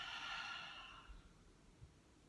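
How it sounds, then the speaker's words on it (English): A long, soft exhale during yoga breathing, a faint airy breath that fades out within about a second, followed by quiet low thumps. "Exhale."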